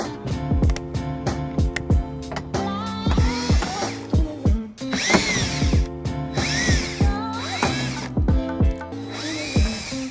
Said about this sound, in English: I'll be taking my cordless power drill to remove the 8mm screws